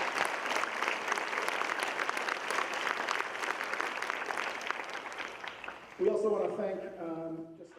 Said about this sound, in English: So we want to give them a huge round of applause for opening their space to us